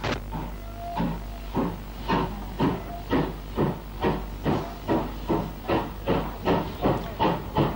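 A GWR 57XX pannier tank steam locomotive working a 1961 passenger train chuffs in a steady, even rhythm of sharp exhaust beats over a constant hiss and rumble, fairly close and loud, with no voices.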